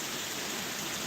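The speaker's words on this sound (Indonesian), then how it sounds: "Ayo kita mandi hujan." Steady rain falls during a rainy day outdoors, a dense even hiss of drops on surfaces that stays constant and close throughout with no voices.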